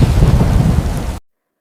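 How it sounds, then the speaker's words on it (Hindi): Thunder rumbles loudly through steady rain in a thunderstorm, a dense low roar that fills the moment and then cuts off abruptly into silence. "बरसात का मौसम था।"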